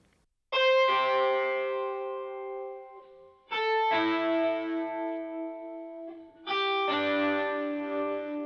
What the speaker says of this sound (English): I went to the presets and I chose Stereo Phaser DDL02